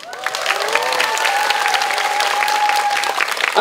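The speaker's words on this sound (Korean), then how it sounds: "큰 박수로 환영해주세요" A studio audience at a Korean idol fan event claps and cheers to welcome a guest host, dense continuous applause that holds steady throughout.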